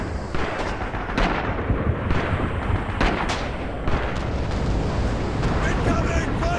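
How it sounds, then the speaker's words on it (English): Artillery fire thunders through an online war shooter battle on an Omaha Beach map: continuous rumbling blasts and crackling gunfire fill the scene, loud and unbroken for several seconds. "Quite a lot of them with the artillery."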